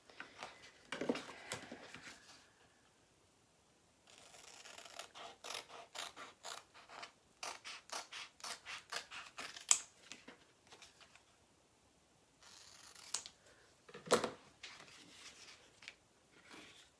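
Scissors cut apart chalk transfer pieces in several runs of quick, close snips and clicks, separated by quiet gaps, with no talking.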